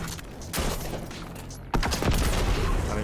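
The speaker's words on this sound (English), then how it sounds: "you'll shoot your first shotgun, your second shotgun, your rocket" Shotgun blasts and a rocket launch fire in a shooter game, a few heavy booms with a big blast partway through followed by rumbling, fairly quiet overall.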